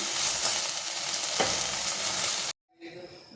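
Frying in oil on a stove, a steady loud sizzle with a brief stir or scrape midway, then it cuts off abruptly and a fainter hiss returns.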